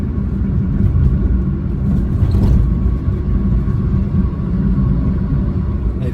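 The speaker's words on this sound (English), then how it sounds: "the engine's starting to work a little bit now" A 1992 Fiat Uno's engine labours up a gradient, a loud, steady low drone and rumble heard from inside the car and continuing throughout with no speech.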